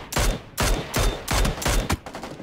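Rapid automatic gunfire from a weapon in a first-person shooter game, heard as four or five loud, sharp bursts in quick succession with brief gaps between them.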